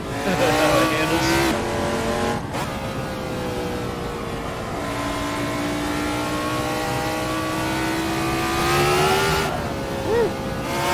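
A Dallara F3 open-wheel race car in the Assetto Corsa sim, its engine revving and shifting through gears with rising and falling whine and brief tire squeal, loud and continuous with a short cut near two seconds.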